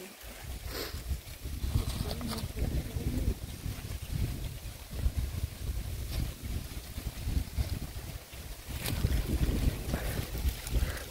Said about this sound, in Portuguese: Tá ventando um pouco aqui, pessoal.